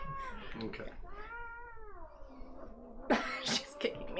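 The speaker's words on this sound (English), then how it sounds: "Goodbye, cat." A cat meows amid a few people talking nearby, with its drawn-out, wavering cry rising and falling in pitch near the middle and followed by short, harsher bursts.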